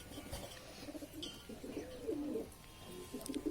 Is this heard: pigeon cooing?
yes